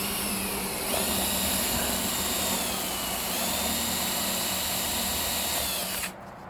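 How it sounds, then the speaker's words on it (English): A power drill bores holes into a wooden beehive during a winter hive check, a steady high whine running close and loud for several seconds before cutting off abruptly. "So he's got 2 more holes to drill"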